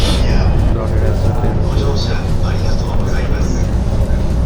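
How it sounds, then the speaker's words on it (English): A crowded Japanese rail line train heading to Shibuya rumbles steadily and loudly from inside the carriage, with a dense, continuous wash of running noise and faint murmuring voices underneath. "So I'm currently in a train that goes to Shibuya."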